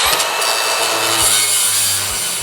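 Rusted metal roof panel on a truck being cut with a power tool, producing a loud, continuous harsh grinding rasp with a few low knocks underneath.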